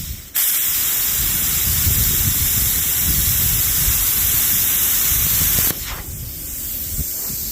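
An Everlast 82i plasma cutter gouging a metal casting gives a loud, steady roaring hiss for about five seconds, then cuts off abruptly, leaving a quieter air hiss after.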